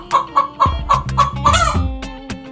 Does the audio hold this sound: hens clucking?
yes